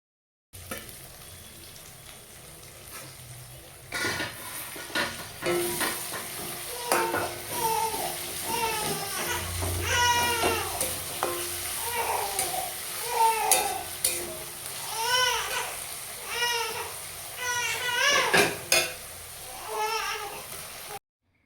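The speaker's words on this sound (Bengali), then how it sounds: "ক্যাপসিকামটা দেওয়ার পর হালকা নরম হয়ে যাবে দু এক মিনিট নাড়াচাড়া করবে" Capsicum with green chillies sizzles and is stirred in a frying pan, a faint steady sizzle broken by scraping stirs and occasional clinks, with soft bubbling and chirpy sounds in the background.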